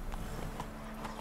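Horse hooves clip-clop at a walking pace in The Witcher 3, a few soft, evenly spaced thuds over a low steady background drone, no talking.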